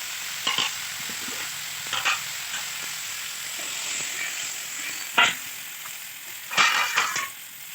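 Hot water poured into a pan of frying puthi fish curry with khutura greens sets off a steady sizzle broken by several sharp, bubbling bursts, close and fairly loud.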